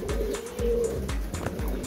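Birmingham Roller pigeons coo in a breeding loft, giving a run of soft, throaty, repeated coos close by over a steady low background hum.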